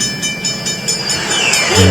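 Cartoon train chugging along a track, a rhythmic clickety-clack with a rising whistle-like tone near the end, fairly loud and with no talk.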